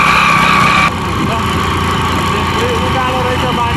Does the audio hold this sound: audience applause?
no